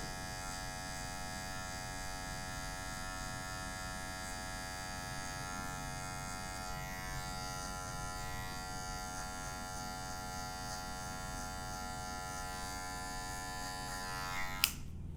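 Electric hair clippers cutting a fade haircut, a steady high-pitched motor whine running continuously and close, with a brief click near the end and no talk.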